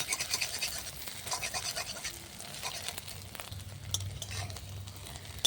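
Egg pieces frying and being stirred in a pan over a clay stove, a steady scratchy scraping with soft sizzle running throughout, fairly quiet and close, with no talking.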